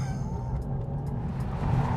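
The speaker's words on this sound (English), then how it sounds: "Now the Mazdaspeed3's biggest strength, the thing about it that's most noticeable, is its engine." A 2013 Mazdaspeed3 hot hatch drives hard, its engine droning steadily beneath a continuous hiss and squeal of tires on the road, brief and fairly close.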